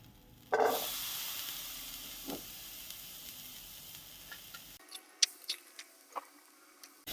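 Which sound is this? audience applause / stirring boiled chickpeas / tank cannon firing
stirring boiled chickpeas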